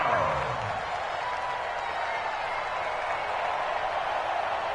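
Football stadium crowd cheering and roaring ahead of a big third down, a dense, continuous wall of broadband noise that stays loud and steady throughout.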